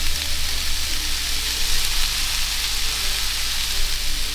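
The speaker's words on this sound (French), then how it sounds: "Ok, let's go pour mettre cette viande de kebab dans la poêle" Kebab meat sizzles steadily in a hot pan, a dense, loud crackling hiss with a few faint clicks throughout and no talking.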